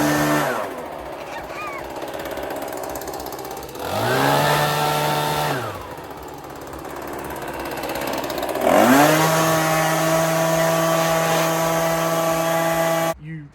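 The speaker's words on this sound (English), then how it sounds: "Can use a leaf blower if you own a big truck, get most of the water off" A small engine-driven leaf blower drying a 2018 Ford Raptor revs up and down in several surges, its whine rising and falling loudly, close by with no voices.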